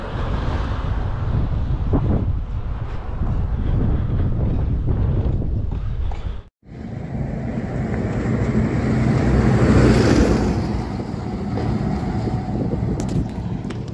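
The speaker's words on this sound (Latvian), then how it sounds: "Ārā laiks mazliet ir vējains" Strong wind roars across the microphone outdoors on a cloudy, blustery day during a bicycle ride along a road in Latvia. The buffeting is loud and continuous, with one brief dropout partway through, and no one speaks.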